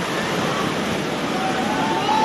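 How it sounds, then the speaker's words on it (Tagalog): Heavy rain pours steadily onto a flooded street in Moriones, Tondo, Manila, a dense continuous hiss and wash that stays loud and even throughout, with no voices over it. "Malakas pa rin ang buhos ng ulan."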